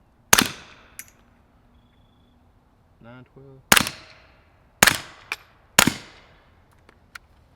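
Four sharp suppressed shots from a CZ Scorpion fitted with a Resilient RS9 suppressor ring out at uneven intervals, each with a short decaying tail, and a brief voice speaks between the first two blasts.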